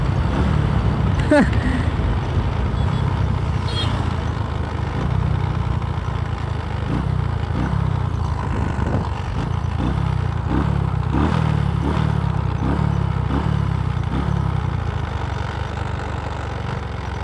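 A Honda Wave 100 motorcycle with a 52 mm piston runs with heavy vibration, giving a continuous low engine drone with a rhythmic pulsing clatter, steady and fairly loud throughout.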